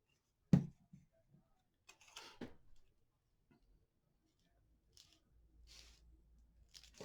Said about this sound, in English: Right along the edge there. And we'll trim off what we don't need.